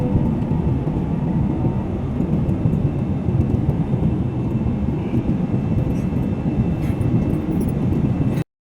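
An airplane taking off on a flight to Dubai, a loud steady engine roar heard from inside the cabin, constant and unbroken until it cuts off abruptly.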